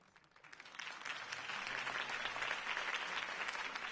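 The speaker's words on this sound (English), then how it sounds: "If only Mr. Wayne, my campaign's largest backer, could have heard that applause" A crowd in the Batman: The Telltale Series video game breaks into applause that swells quickly from a few claps into a steady, fairly faint roar.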